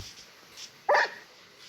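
A single short dog bark rings out at moderate distance, clear against a quiet outdoor background.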